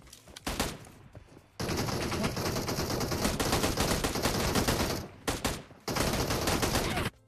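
Rapid bursts of automatic gunfire from a PUBG Mobile match, loud and close, in several sustained volleys separated by brief pauses.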